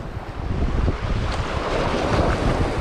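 Wind and surf at the sea during a bass fishing session with a light tailwind, loud steady roaring wind noise blended with washing waves, continuous and close to the microphone with no talk.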